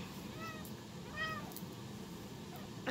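A pet cat meows twice indoors, two short rising-and-falling cries close by, with quiet room noise around them and no talking.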